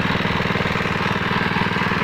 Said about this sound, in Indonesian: Ini mesin Honda WL30SN.